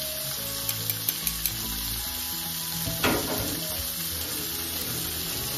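Squid fries in a hot pan with a steady, close sizzle that runs throughout, joined by a few light clicks early on and a brief louder spatter midway.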